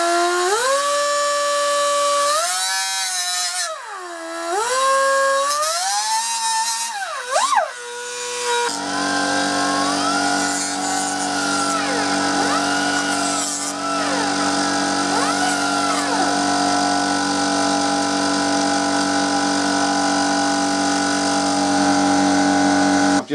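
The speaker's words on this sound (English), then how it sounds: "before we get the saw on there and cut that" A saw cuts into the worn fender of a Royal Enfield Bullet motorcycle beside a running air compressor: a tonal whine rises and dips, then gives way to a harsh, continuous, loud grinding rasp.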